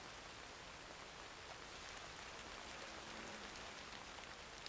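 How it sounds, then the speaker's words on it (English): Steady rain in the Red Dead Redemption 2 video game, a dense, even hiss of falling drops at a campsite, continuous and fairly close with no voices. "Maybe this rain will go away."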